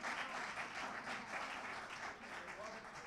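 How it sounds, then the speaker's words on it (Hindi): Audience applause at a poetry recital (naat mushaira), a soft, distant wash of clapping that holds steady throughout at low volume. "एक दफ़ा आप भरपूर तालियां बजाकर बता देंगे उनको कितना कलाम पसंद है"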